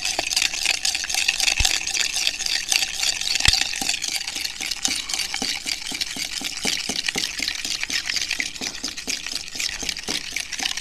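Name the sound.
spoon stirring borax into glue mixture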